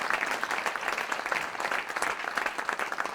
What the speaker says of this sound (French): Merci de les applaudir, mesdames, messieurs